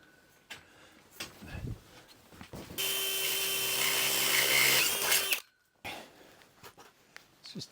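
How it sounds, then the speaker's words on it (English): Nuts being tightened onto a long carriage bolt with a washer and lock nut, heard as a steady, loud powered whirr lasting a few seconds, with lighter handling clatter before and after. "Let's just tighten those nuts up"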